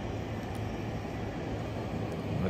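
Train rolling past near the north side of Ikebukuro, Tokyo, a dense, steady rumble of wheels and cars filling a brief stretch at moderate loudness with no speech.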